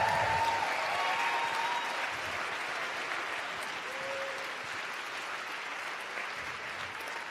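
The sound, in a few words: audience applause for the speakers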